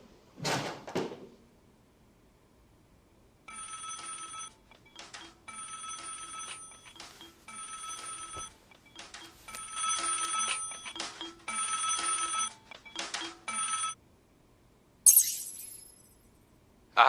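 A telephone rings in repeated bursts, starting after a brief door-like knock or clunk at the opening, with a longer run of rings in the middle and a sharp bright sound near the end. The rings are moderately loud and there is no talking.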